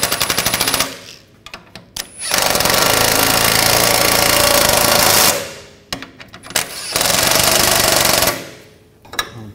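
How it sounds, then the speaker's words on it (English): A 13 mm socket tool snugs down rear shock mount bolts on a 2009-2013 BMW 328i, giving loud, rapid rattling bursts: a short one, then two long sustained runs separated by brief pauses, with no talking. "snug these bolts down."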